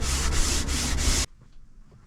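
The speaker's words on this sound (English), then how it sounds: "we are sanding with the grain to ensure that we remove any scraper marks or any scratches that might be cross grain" Sandpaper rubbing along the grain of a wooden countertop being refinished, a steady loud scratchy hiss in about four strokes that stops abruptly, leaving quiet room tone.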